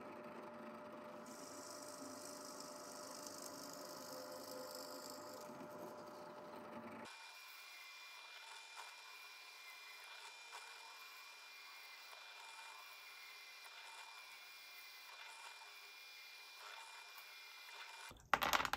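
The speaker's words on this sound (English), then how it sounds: "Got a lovely set of dowel cutters, the smallest one I've got in the drill press at the moment" A drill press cuts wooden dowels with a dowel cutter, a steady mid-level whirring and grinding that continues throughout, changing character partway as the cut proceeds, with a brief louder clatter at the very end; no talking.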